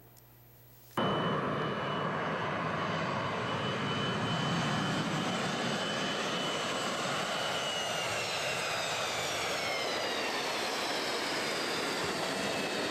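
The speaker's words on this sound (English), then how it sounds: "the Boeing 727 made its final landing" A Boeing 727 jetliner on its final landing at Fairbanks International Airport roars in abruptly after a second and holds a loud, steady engine rush with rising whine for the rest of the time.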